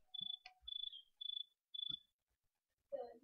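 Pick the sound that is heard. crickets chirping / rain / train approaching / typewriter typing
crickets chirping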